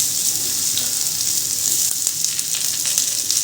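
Alu vadi, colocasia leaf rolls, shallow frying in a little hot oil, a bright steady sizzle close up with a few soft crackles and pops.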